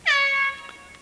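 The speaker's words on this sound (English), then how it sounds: "And you could hear the horn in the background." An air horn at a girls' varsity soccer game gives one short, clear blast lasting about half a second, heard at a moderate distance over quiet crowd ambience.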